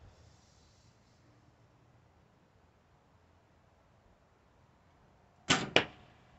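An arrow is shot from a 1986 Bear Whitetail 2 bow outdoors on a windy day, with two sharp, loud close snaps in quick succession after several seconds of steady low wind rumble.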